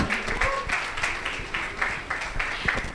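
Applause from the audience at a college convocation ceremony for master's students, a dense spread of clapping with rhythmic pulses, moderately loud and fairly close, with no talk over it.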